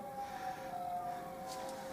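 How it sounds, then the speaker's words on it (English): Distant sandwich van playing a Batman tune, a faint sustained melodic tone drifting under the room's background hiss for about two seconds. "If you can hear that Batman tune in the background,"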